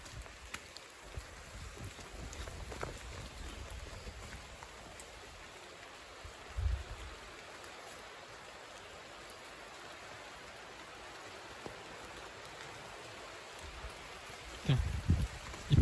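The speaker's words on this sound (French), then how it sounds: "Il y a un déluge de flotte." A heavy downpour of rain during a stormy season, beating steadily as a dense, even roar close by for the whole span, with a few brief low thumps.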